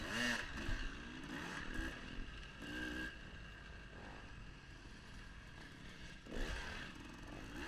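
A two-stroke 300 off-road dirt bike engine drones and revs through a steady ride during a GP race at Fox Valley Off Road, the engine note rising and falling with throttle and no speech.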